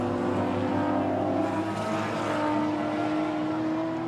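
A race car at the SCCA National Championship Runoffs roars at a sustained, steady pitch, loud and continuous for the whole stretch with no speech over it.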